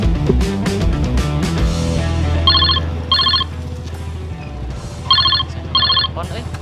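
A telephone rings in two pairs of trilling double rings over background music, loud and close.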